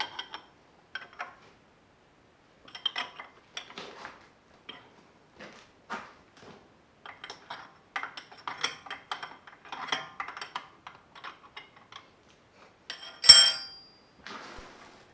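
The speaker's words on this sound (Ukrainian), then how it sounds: "ставлю люнет кулачками напроти опорної шийки і в цьому місці затягую його" A lathe steady rest has its jaws moved into place against a support journal and tightened, giving scattered close metallic clicks, scrapes and knocks amid short silences, ending in one sharp, louder clank.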